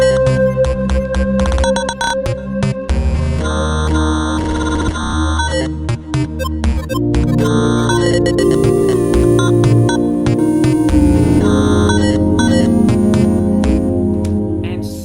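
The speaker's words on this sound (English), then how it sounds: "It's SynthPad 4 from Labs." A SynthPad 4 patch from Labs with a fast attack, sounding in a loud, dense, busy stretch of music with layered sustained tones and percussive hits throughout.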